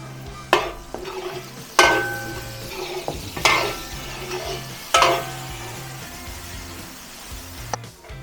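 Garlic and onion fry in a pan with a steady soft sizzle, broken by several sharp utensil scrapes and knocks as they are stirred, with no talking.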